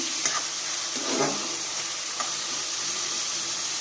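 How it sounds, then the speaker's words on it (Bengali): Chopped onion and garlic fry in hot oil for a pot of leafy greens, a close, steady sizzle with a few brief stirring scrapes and pops and no talking. "পেঁয়াজটা আমি ভাজা ভাজা করবো।"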